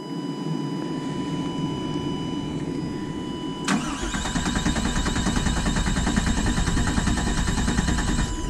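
An engine cranks without catching: a steady humming whine gives way to a louder, continuous churning of the starter that keeps turning over without settling into a running idle.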